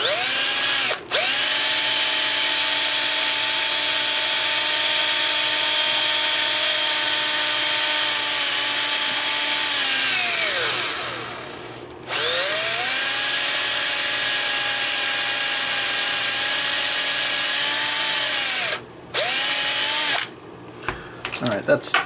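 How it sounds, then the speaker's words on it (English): Power drill boring a hole into the back end of a Damnation Alley Landmaster model's rocket tubes, a loud steady whine running in long bursts with brief stops and restarts, alone without talk. "so I got to drill a hole"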